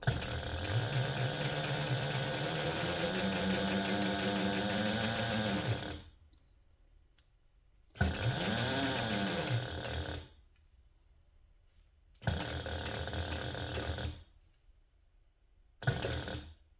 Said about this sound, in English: You always want to hold your strings when you start sewing, so that nothing gets sucked up into the bottom of the machine.